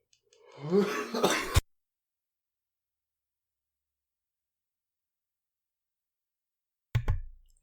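A single cough bursts out close to the mic, followed after a long silence by a second short cough.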